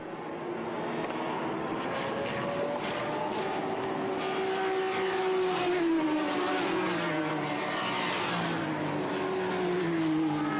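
Touring race cars, including a Volvo S60, BMW and Renault, lapping at the Spa-Francorchamps 12 Hours, a continuous loud engine drone with rising and falling revs as several cars pass.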